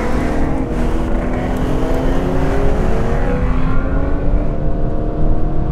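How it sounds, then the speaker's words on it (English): A classic Aston Martin Vanquish with a paddle-shift gearbox under full throttle, its engine note rising steadily and loudly close up, a continuous hard-pulling roar with no talking. "Put your foot down, and this is what you get."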